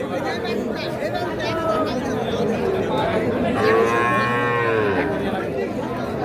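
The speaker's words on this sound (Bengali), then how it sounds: "এটা একটা ষাঁড় বাচ্চা, ক্রস জাতের" A three-month-old crossbred bull calf moos once, long and drawn out, at a busy village cattle market, under constant crowd chatter and nearby talking.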